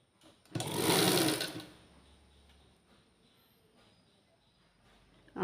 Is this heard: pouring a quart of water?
no